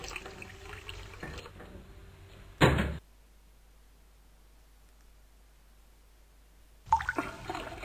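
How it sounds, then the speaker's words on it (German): Water pours in the Haluz 2 video game, a rushing, noisy splash that runs for a couple of seconds before a sharp knock and then near silence. "Überall Wasser reingießen."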